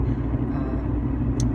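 Steady low road rumble from a car in motion, continuous and close throughout, with a brief faint high rattle near the end and no talking.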